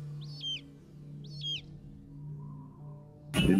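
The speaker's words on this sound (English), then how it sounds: "You must be near the ocean. I hear the seagull." A seagull gives two short, high calls about a second apart, faint over a steady low hum, and a dull thump follows.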